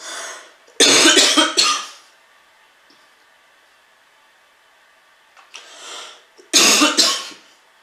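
A woman coughs hard in a loud burst of several coughs, pauses in near silence, then clears her throat and coughs again in another forceful burst.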